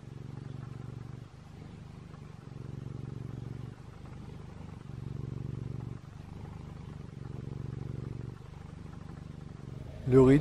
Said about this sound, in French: Le geste de filmer le chat qui ronronne sur le lit.